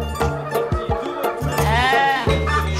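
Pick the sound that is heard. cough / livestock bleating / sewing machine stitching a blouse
livestock bleating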